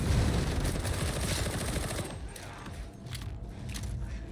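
Rapid gunfire rattles loudly in Warhammer 40,000: Darktide, dense automatic bursts for about two seconds, then sparser scattered shots and mechanical clatter trailing off.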